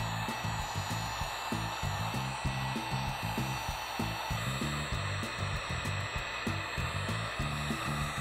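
Hair dryer-style hot air blower run on a low setting to warm and cure epoxy on a carbon fiber repair, a steady close whooshing drone with a faint rhythmic flutter throughout, no talking.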